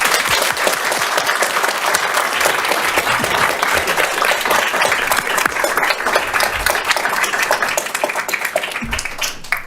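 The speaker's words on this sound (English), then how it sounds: "please join me in a big round of applause for all of our candidates" A large audience at an evening candidates forum gives a sustained round of applause for all the candidates. The clapping is dense and steady for nearly ten seconds and eases slightly toward the end.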